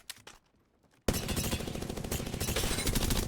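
Sustained automatic weapon fire in Apex Legends bursts in abruptly after a brief quiet lull and continues as a loud, rapid, steady stream of shots to the end.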